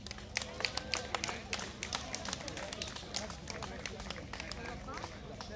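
Audience applause greeting the Ivan Apostolov choir of the Kalabak tourist society from Petrich at the Rila folk festival: dense, steady clapping from a large crowd, close and continuous throughout, with brief chatter mixed in.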